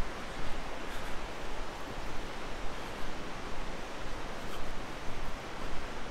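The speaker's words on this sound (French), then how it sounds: "C'est calme, hein, c'est relaxant, le bruit des vagues." Sea waves on the seafront at night in Ordu, Turkey: a steady, even wash of surf that rushes without a break, with no distinct breaking crests and no voices.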